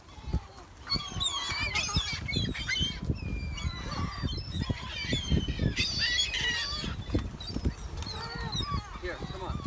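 Geese at a lake honk and squawk repeatedly in a busy, overlapping chorus, with a person talking now and then among the calls.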